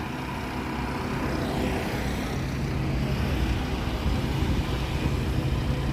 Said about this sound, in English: Sounds like an airplane is flying over.